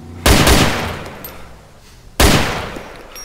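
Two loud gunshots go off in a video game, each a sharp blast trailing into a long echoing decay, about two seconds apart.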